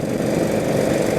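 A 1948 Indian flathead motorcycle engine runs steadily, giving a loud, dense low putter with a rough, even texture and no speech, heard up close while the bike is ridden.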